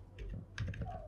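Keys clatter on a computer keyboard as a host name is typed into a mail server setup form, a brief run of close, quiet keystrokes over a low steady hum.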